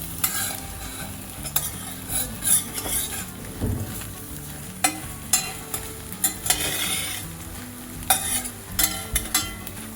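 Beaten egg layers for Japanese rolled omelet sizzle in oil in a square pan, with steady soft frying hiss broken by repeated scraping and stirring clicks of a utensil.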